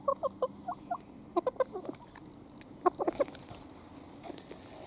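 Silver bantam Wyandotte chickens give short, soft clucks in scattered bursts, close by, with no one talking over them.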